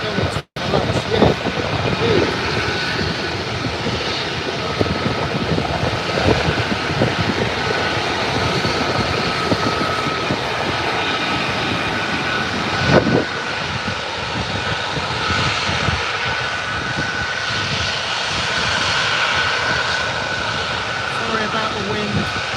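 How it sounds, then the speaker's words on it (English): Military jet aircraft engines roar steadily and loudly at RAF Lakenheath, a continuous broadband blast with surging swells and wind buffeting, with a few voices underneath. "11 aircraft out now"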